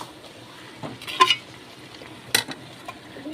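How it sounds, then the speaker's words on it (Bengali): Bottle gourd is stirred in a pan, two distinct scraping strokes of a spatula against the metal over a quiet background hiss, close and otherwise still. "এটাকে আমি এইরকমভাবে 2-3 মিনিট নাড়তেই থাকবো"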